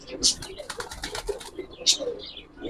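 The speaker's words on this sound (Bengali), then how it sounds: "মানে এটা খাকি কবুতর দেখেন" A khaki Giribaz pigeon, a wild-type male, flaps its wings in short bursts and gives soft low coos close by, with someone talking over it.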